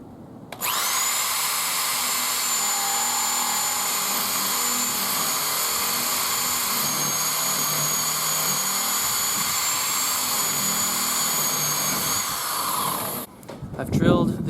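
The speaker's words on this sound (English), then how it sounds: "I've drilled the sheets." Power drill boring through sheets for a homemade moon board, a loud continuous whine held for about twelve seconds before stopping abruptly, followed by brief clatter.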